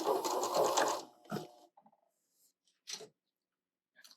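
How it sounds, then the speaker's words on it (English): A sewing machine back stitches on quilt binding in a brief, rapid burst of needle strokes, close and clear, followed by a few faint clicks and small handling sounds. "Go ahead and back stitch."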